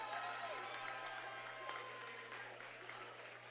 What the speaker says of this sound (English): Let's have a round of applause for these two great fighters